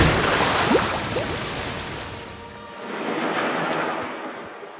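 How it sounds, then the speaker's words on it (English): A huge waterfall in the George of the Jungle cartoon, a broad roaring rush of falling water that swells, eases off and then rises again, with no talk over it. "Not end of world. Just really big waterfall."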